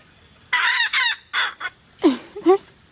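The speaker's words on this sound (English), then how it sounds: "4 little roosters in there that are all new crowers, and they're all trying." Several young roosters attempt their first crows, producing a few short, broken, scratchy cock-a-doodle calls in quick succession, close by and fairly loud.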